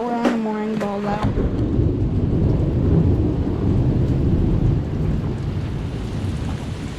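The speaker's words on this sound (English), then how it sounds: "We're in the storm." A thunderstorm with heavy rain surrounds a moored sailboat, a steady loud roar of rain and wind with rumbling thunder throughout, after a brief tonal sound at the very start.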